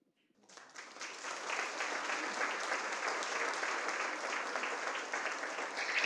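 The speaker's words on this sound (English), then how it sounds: "One more round of applause, please, for our fantastic panel" Applause for a panel at a philanthropy event begins after a brief quiet moment, swells quickly into full, dense clapping from a large audience, and stays strong for several seconds.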